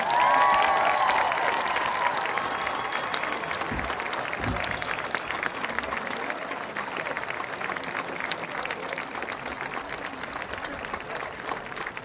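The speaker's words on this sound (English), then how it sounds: "Please welcome with a rousing round of applause 98-year-old Abington football coach, Mr. Walter Pastor." Sustained crowd applause with scattered cheers fills a high school football stadium, greeting a 98-year-old former Abington football coach; steady, loud clapping holds throughout and slowly tapers slightly toward the end.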